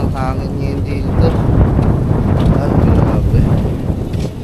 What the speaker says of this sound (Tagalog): Sobrang hangin ngayon dito.